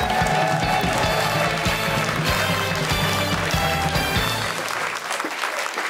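Studio audience applauds a Lithuanian evening talk show as Prime Minister Ingrida Šimonytė takes the guest chair: a steady, dense wash of clapping with a musical tone underneath, fading slightly at the end.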